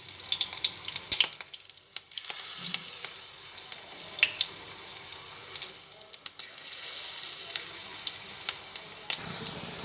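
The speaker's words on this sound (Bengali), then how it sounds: "কড়াইতে তেল দিয়ে তেল গরম হয়ে গেছে সেজন্য এক এক করে ছোট ছোট করে আমি ডালের বড়াগুলো তৈরি করে ফেলছি" Small lentil fritters frying in hot oil in a wok, a close, crackling sizzle broken by sharp spatters and clinks as pieces are dropped in one by one.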